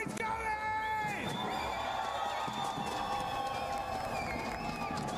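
A large crowd at an esports watch party in Paris cheers and whoops continuously, a loud roar that fills the hall, with an announcer's voice over it early on.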